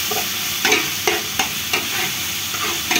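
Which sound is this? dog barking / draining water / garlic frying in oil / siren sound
garlic frying in oil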